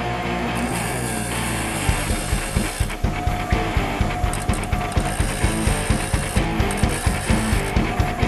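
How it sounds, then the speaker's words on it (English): A Caliburn Blitz Bit drill bit tip is resharpened, a steady rhythmic rasping grind of metal scraping repeating several times per second, close and continuous. "if you do need to resharpen the drill bit, it is very easy to do it on your own"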